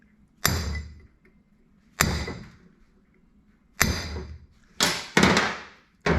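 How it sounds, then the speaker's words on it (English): Light taps of a hammer seating a lead nut into a Columbian 603-1/2 vise, several sharp separate knocks spaced a second or two apart, close and clear with no talk. "all I've done is just give that little bit of a tap just to keep the lead nut from being able to move"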